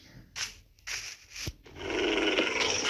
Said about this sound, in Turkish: Arkadan bir kurt sesi.